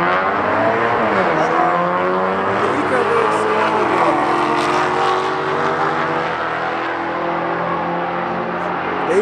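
A Dodge and a Ford Mustang drag race at an Indianapolis cars and coffee meet, with the Dodge spinning its tires. Loud engines roar and rev continuously with rising and falling pitch, and people talk in the background.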